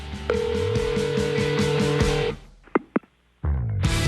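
Telephone voicemail system tones: a sustained electronic beep with steady pulsing tones, then a few short sharp clicks after a gap, and the tone pattern resuming at the end.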